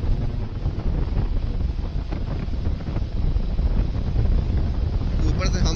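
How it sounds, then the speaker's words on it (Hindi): Strong wind buffets a microphone during a fast Honda SP motorcycle ride on a long highway trip, a loud continuous rushing roar that fills the clip. "अगर मेरी आवाज कम आ रही हो मतलब हवा बहुत तेज चल रही है।"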